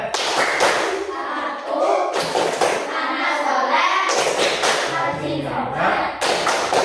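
Children in an Islamic school class perform a rhythmic clap chant, with sharp group claps punctuating their sung, spoken verses throughout.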